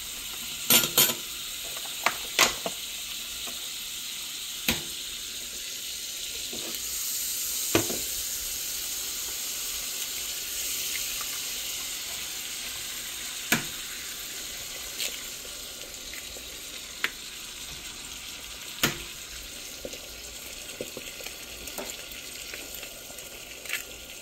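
Butter for eggs sizzles steadily in a hot pan, a constant frying hiss with occasional sharp pops and utensil clicks, close and continuous with no talking.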